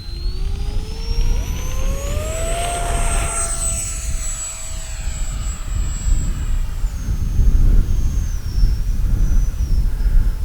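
An Arrows RC F-86 Sabre with a 64mm electric ducted fan streaks past, its high turbine whine sweeping upward then easing off in a clear Doppler pass before fading into wind and distant hiss.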